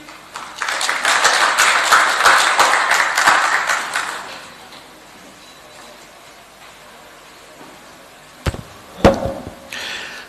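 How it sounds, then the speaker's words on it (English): An audience applauds a speaker at a national dialogue event on the right to food in Malawi, loud clapping for about four seconds that fades, followed by quiet room noise and a few scattered knocks near the end. "May we give her another round of applause, ladies and gentlemen."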